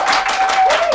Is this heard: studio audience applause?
yes